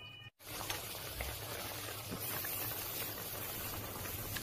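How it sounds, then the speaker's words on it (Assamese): Assamese fish curry with fried fish pieces and pennywort simmering in a pot, a steady close bubbling hiss that runs unbroken after a brief cut near the start. "এতিয়া মই ইয়াতে ভাজি ৰখা মাছ কেইপিচ যোগ কৰি দি দিছোঁ আৰু আঞ্জাখন অলপ ডাঠ হোৱালৈকে উতলিবলৈ দিম"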